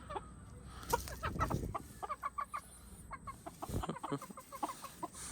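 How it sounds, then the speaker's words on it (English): A group of Silkie chickens clucks nearby in quick, irregular bursts of short notes, with some rustling and scuffling in between. "Such a funny group of chickens."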